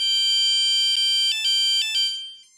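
A smart holiday ornament from Apollo Automation plays an electronic melody of bright, steady tones, its sustained notes changing pitch a few times before fading out at the end, with no talking.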